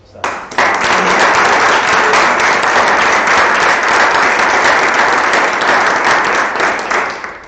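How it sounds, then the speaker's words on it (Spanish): Loud, close audience applause after a question session at a theatre festival, many hands clapping in a dense continuous burst that starts suddenly and holds strong for about seven seconds before tapering slightly. "Aplaudimos."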